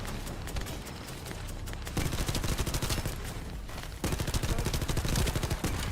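Rapid automatic gunfire in The First Descendant, a dense continuous stream of shots that surges louder at intervals, filling the scene with steady sharp cracks.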